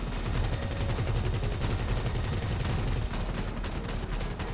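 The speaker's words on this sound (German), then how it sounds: "Wir müssen mit diesem Maschinengewehr hier machen" Rapid machine gun fire in GTA Online, a dense, continuous rattle of rounds at a steady fast rhythm, loud and close throughout, with the bursts running without pause.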